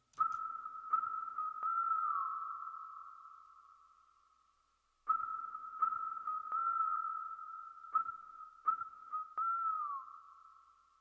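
A steady pure whistle tone is held for a couple of seconds and fades, then returns with sharp clicks cutting in and a slight downward bend at the end, clean and alone.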